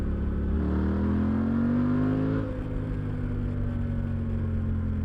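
A Suzuki V-Strom 800 DE motorcycle engine pulls steadily upward in pitch in third gear from 40 for a couple of seconds under load, then eases off into a sustained drone; close and loud, no talking.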